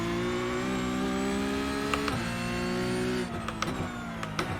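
A race car engine in a sim racing video game drones at high revs, dipping briefly as it shifts down under braking and then climbing again as the throttle reopens, steady and loud with no voices.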